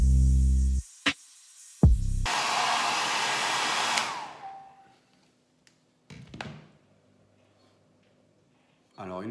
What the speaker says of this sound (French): Alors une fois vous avez passé le sèche-cheveux comme ça partout tout autour pendant bien 4-5 minutes